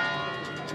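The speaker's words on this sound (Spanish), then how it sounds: "Las campanas doblan, las campanas de esta catedral" Cathedral bells tolling in Ávila for the funeral of Adolfo Suárez: a short burst of sustained, ringing metallic tones that hangs at moderate volume, with no voices.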